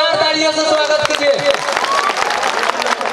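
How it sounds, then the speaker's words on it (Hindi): Audience applause and cheering from a crowd welcoming a singer onto a stage at a live show, a dense, continuous wash of clapping with crowd noise throughout, with musical tones sustained early on. "एक बार जोरदार तालियों से स्वागत कीजिए"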